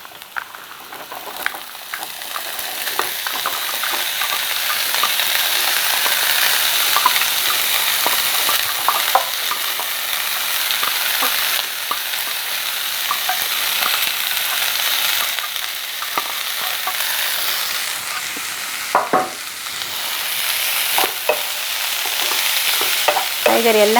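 Onion and mixed vegetables fry in a pan for a vegetable bonda filling, a continuous close sizzle broken by repeated spoon scrapes and stirring clatter throughout.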